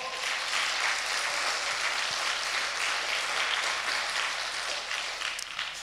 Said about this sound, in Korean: 우리 박수로 시작하겠습니다